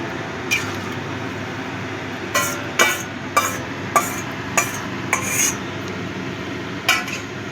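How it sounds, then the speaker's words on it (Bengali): Boiled red lentils go into a pan of softened onion and tomato, heard as a run of sharp metallic clinks and scrapes of a spoon against the pan over a low background hum, about eight distinct knocks, fairly quiet and close. "এবার আমি দিয়ে দিচ্ছি সেদ্ধ করে রাখা ডালটা।"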